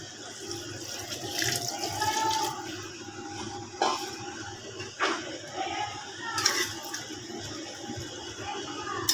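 Water poured into a cooking pot of meat, a steady splashing stream running for several seconds with a few louder clunks, close by.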